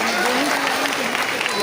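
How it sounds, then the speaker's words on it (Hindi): Applause from a crowd honouring students at an Independence Day celebration at a college, a steady dense wash of clapping under a speaking voice amplified over a sound system. "कंचन, अंजलि, पुष्पा और भी कई छात्राएं थी, उन सबके लिए जोरदार तालियां।"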